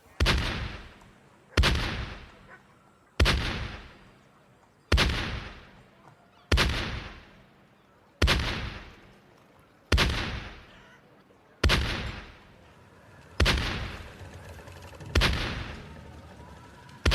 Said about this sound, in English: you fired an 11-gun salute